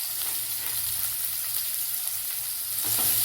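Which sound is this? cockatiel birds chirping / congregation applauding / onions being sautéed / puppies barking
onions being sautéed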